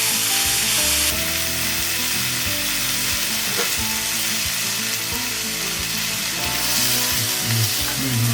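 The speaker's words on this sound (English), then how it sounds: "I'm going to have the drained potatoes in the skillet" Drained potatoes fry in olive oil in a cast iron skillet, a loud, dense, continuous sizzle that holds steady throughout, close by and with no talking over it.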